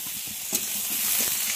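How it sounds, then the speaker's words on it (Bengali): Eggplant pieces and potatoes fry together in oil, a close, continuous sizzle broken by a few soft stirring scrapes and clacks, with no voices. "বেগুনগুলো আলুর সঙ্গে খুব ভালো করে ভেজে নেব।"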